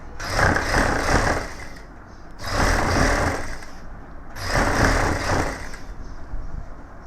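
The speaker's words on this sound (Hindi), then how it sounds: "अभी हम डबल सिलाई करेंगे।" An electric sewing machine double-stitches suit fabric in three long runs, a steady close whirring drone with brief pauses between bursts and no talk.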